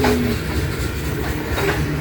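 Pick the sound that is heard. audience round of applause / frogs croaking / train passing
train passing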